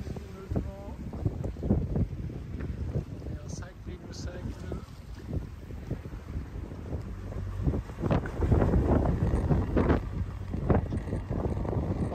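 Strong wind gusting across the microphone on a sailing boat in about 18 knots of breeze off Turkey, rough buffeting rumble with water and rigging noise, rising in intensity later, with voices talking over it.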